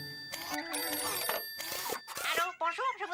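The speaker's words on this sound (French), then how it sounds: "Lindy, téléphone." A telephone ringing in a French children's cartoon, bright electronic rings in short bursts between animated character voices.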